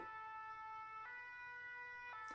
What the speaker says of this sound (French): C'est la sirène du camion de pompiers.